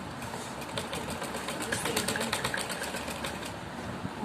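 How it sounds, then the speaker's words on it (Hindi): A sewing machine stitching a suit runs in a fast, steady mechanical chatter of close, evenly repeating needle strokes, slightly irregular in level and running throughout with no pause. "ऊपर हम जब सिलाई लगाना शुरू करेंगे तो 2 बार लगाएंगे, जिससे सिलाई बन जाए।"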